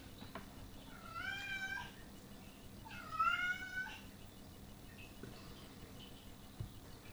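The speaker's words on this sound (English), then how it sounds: "Okay, interruptions from the cat." A house cat meows twice, two clear drawn-out calls a second or so apart, close by over a quiet room.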